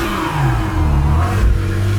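An LS3-powered car on worn tires does a short burnout, its engine revving loud and near in a brief, rough, rising roar.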